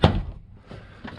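Rear door panel of a Lexus NX300h being pulled off by hand, a sharp plastic clip pop and thunk at the start followed by a softer rattle and a faint second click near the end.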